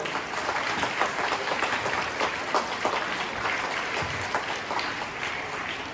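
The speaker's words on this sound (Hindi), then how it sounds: "तो मैं चाहूंगा कि दियांशी के लिए भी जोरदार एक बार तालियां हो जाए।" Audience clapping at a school Independence Day celebration after a student's performance, sustained applause from a crowd filling the whole stretch at steady volume, a few brief voices mixed in.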